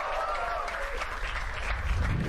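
Audience applause for a rapper at a live comedy talent show, a moderate wash of clapping blended with crowd noise and some faint voices, heard at a distance.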